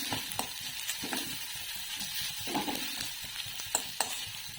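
Tomatoes sautéing with turmeric in a pan, a soft steady sizzle with light scraping stir strokes and occasional clicks, fairly quiet and without talk.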